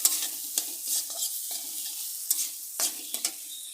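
Spice paste for pineapple hilsa frying in a pan as dry chili powder goes in: a soft, steady sizzle broken by irregular scrapes and knocks of stirring, close by, with no voices.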